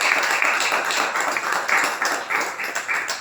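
Congregation at a Spanish-language church service clapping in praise of the Lord, a steady crowd applause of many hands, fairly loud and continuous, with no talk over it.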